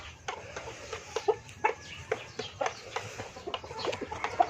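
A Black Australorp and Texas crossbreed chicken clucks and murmurs in short repeated bursts, fairly quiet and close, with no talking over it.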